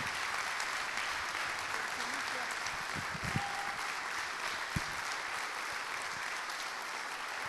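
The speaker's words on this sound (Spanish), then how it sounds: "le damos un fuerte aplauso al Rey" Church congregation applauding during a Spanish-language Saturday worship service, a broad steady wash of clapping held at moderate level throughout, with a few brief louder knocks standing out.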